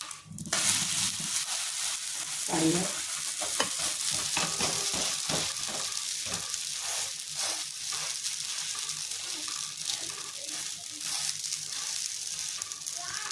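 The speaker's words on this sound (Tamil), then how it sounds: "இது நம்ம சாதாரண தோசை மாவுலேயே ஊற்றுறோம்" Dosa batter mixed with mudakathan greens sizzles on a hot pan, a steady close hiss with light crackles and a scraping stir near the start.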